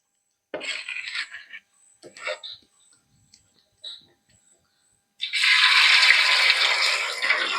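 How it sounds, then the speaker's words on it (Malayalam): Pieces of kera fish for pickle are dropped into hot oil, bringing a few soft taps and clicks, then a loud, steady sizzle that swells up close and continues without any talking. "ബാക്കിയും കൂടെ ഒന്ന് ഇട്ട് കൊടുത്ത് വറുത്തെടുക്കാവേ"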